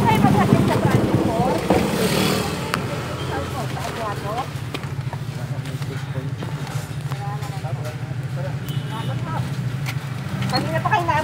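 A Kawasaki HD-III B1-125 two-stroke motorcycle runs while riding, a continuous low engine drone heard under nearly constant talking.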